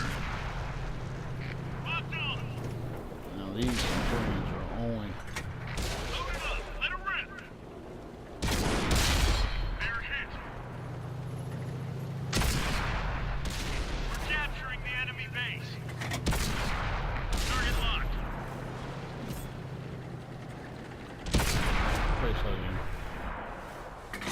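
Tank cannon fire in the video game World of Tanks booms in several heavy blasts with ringing tails, spaced through the stretch under a steady engine rumble, while a player talks over it.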